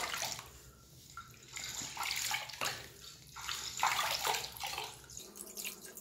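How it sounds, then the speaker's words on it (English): Water pouring and splashing in a bathtub as legs are rinsed during a home pedicure, a steady running flow with uneven swells and splashes, fairly faint and close. "I rinsed it off."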